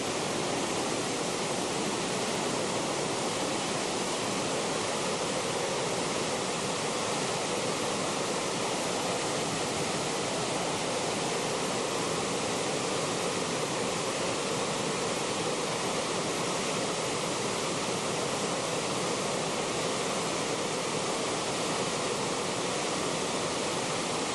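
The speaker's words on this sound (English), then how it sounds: "This is waterfall. This is glacier melt coming down out of the glaciers." Glacier meltwater pours down a waterfall near Byron Glacier in Alaska, a steady, dense roar of rushing water that holds constant and unbroken throughout, with no voices.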